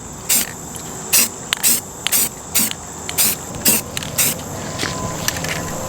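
Light coats of spray paint hissing onto wheels in short bursts, about eight or nine quick sprays with brief pauses between them, close and crisp over a quiet background.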